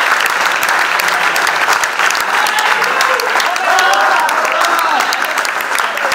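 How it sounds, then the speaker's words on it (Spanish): Loud crowd applause at a town hall celebration of a handball club's promotion, dense, sustained clapping from a large group throughout, with cheering voices rising in the middle. "Y eso merece un aplauso."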